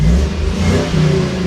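A GM LS V8 swapped into a classic Toyota Land Cruiser revs loud and close, a deep, continuous engine roar rising and holding with no talk over it.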